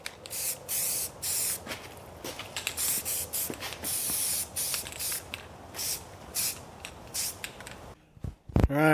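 Spray paint hisses in steady, repeated bursts over a welded brace from a 1964 Thunderbird restoration, close by, with short pauses between passes.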